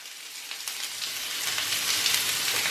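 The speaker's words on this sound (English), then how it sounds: "in my pot that is already preheated over here with some oil, I'm going to go ahead and add my onions, my garlic," Onions and garlic dropped into a preheated pot of oil give a close, bright sizzle that swells and thickens over a few seconds, with some crackle and no talking.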